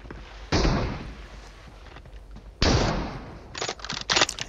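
Gunfire in the mobile battle royale PUBG Mobile: a single sharp shot, then another loud shot with a fading tail, followed by a quick cluster of several rapid shots near the end.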